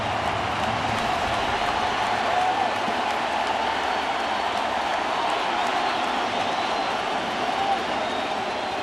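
A large crowd at a World Series baseball game between the Giants and the Royals cheers in a steady, roaring wash of noise throughout, heard from a distance.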